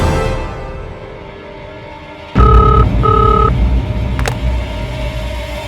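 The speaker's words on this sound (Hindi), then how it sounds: "घर पे करता हूँ फोन।" A telephone is dialed during a tense courtroom scene: two clear electronic beeps sound in quick succession over a low background hum, followed by a brief faint click.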